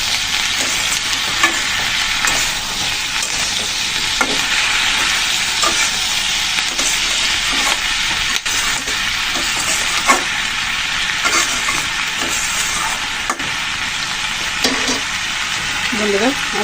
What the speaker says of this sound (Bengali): নেড়ে চেড়ে ভালো করে মিশিয়ে নিচ্ছি এখন।